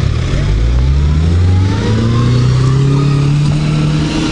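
A UAZ Patriot SUV climbs sand dunes, its engine revving loudly and rising steadily in pitch as it strains under load, close and continuous throughout.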